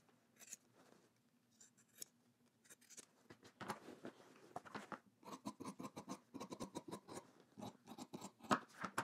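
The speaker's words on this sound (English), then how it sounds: "Gonna trim the corners." Scissors snip the fabric corners of a sewn pair of jeans, a run of quick, close, crisp cuts coming in short bursts with small pauses between them.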